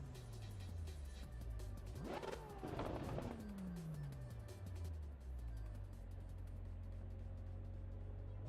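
Video game cars drive and rev, with a continuous engine drone and sweeping pitch rises and falls as they accelerate and pass, loud and close, with no talking.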